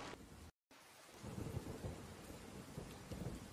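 Steady rain pours with low rumbling thunder rolling underneath in Disney Dreamlight Valley, a continuous stormy wash after a brief silent cut near the start.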